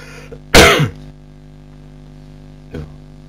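A single loud, harsh cough bursts out near the mic, followed a couple of seconds later by a softer, shorter second cough over a quiet background hum.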